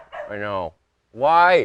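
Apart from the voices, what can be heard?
dog barking and yipping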